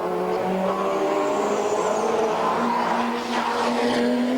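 A Ford Sierra touring car racing at Bathurst in the 1992 Bathurst 1000 at Mount Panorama, a loud, steady high-revving engine drone with a rising tone as it runs down Conrod Straight, close and continuous.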